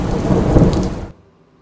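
Heavy rain with a low thunder rumble roars loudly and steadily for about a second, then cuts off abruptly to near silence.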